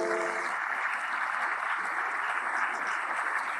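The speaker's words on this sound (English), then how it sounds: "Give him a round of applause." At an engineering conference in Ghana, an audience gives a round of applause for the chief of Accra, a steady, even wash of clapping heard at a low, distant level throughout.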